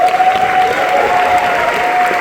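Audience applause fills a film premiere at Cannes, a dense, loud wash of clapping from a large crowd, sustained and even throughout with no voices over it.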